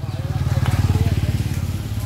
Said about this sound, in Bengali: বাইক উঠে যায়